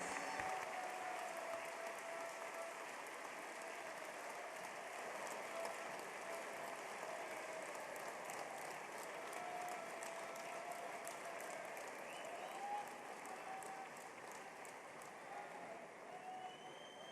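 A large summit audience applauds to welcome India's Prime Minister Narendra Modi at the Vibrant Gujarat Global Summit 2017, a sustained, dense roar of clapping at a distance that holds steady throughout without pause.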